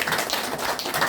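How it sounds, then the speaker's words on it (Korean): A seminar audience of elder pastors gives a brief burst of congratulatory clapping for a speaker, a quick patter of hand claps lasting about a second. "소홍 박사님을 위해서 축하의 박수 한번 쳐드리겠습니다"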